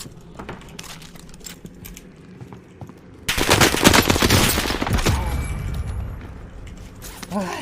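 Gunfire from the AS-44 Soviet assault rifle in Warzone Pacific: scattered single shots and clicks, then a loud sustained automatic burst that tails off, with a short excited voice near the end.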